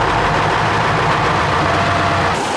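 Engine of an old Ford Louisville truck running low on fuel, a loud, close, rough low rumble that holds steady, then falters and drops away near the end.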